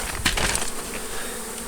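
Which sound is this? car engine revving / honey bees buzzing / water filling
honey bees buzzing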